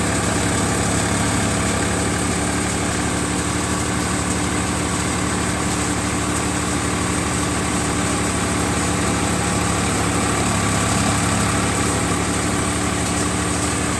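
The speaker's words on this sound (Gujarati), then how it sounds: "બીજા ગેરની અંદર ચૌદસો આરપીએમ ઉપર ટ્રેક્ટર ચાલે છે" A 3048 DI tractor engine runs at 1400 RPM in second gear, a loud, constant, close-up diesel drone with a steady low throb and no voices over it.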